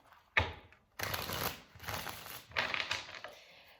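Tarot cards are riffled and shuffled in several quick bursts, close up and crisp, with short pauses between the rustling runs and no voice.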